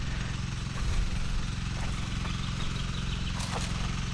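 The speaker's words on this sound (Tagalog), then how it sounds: "ito naman ang grass cutter natin bago tayo magpatubig para hindi mahirapan" A grass cutter engine runs steadily at a farm, a continuous buzzing drone at moderate distance with faint bird sounds.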